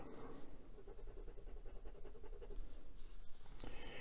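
A fine hooded 14k-nib Penbbs 100 fountain pen scratches across paper in quick writing strokes, a close, continuous papery scribble testing the ink's flow.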